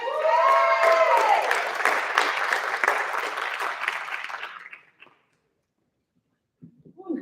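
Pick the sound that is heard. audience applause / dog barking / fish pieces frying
audience applause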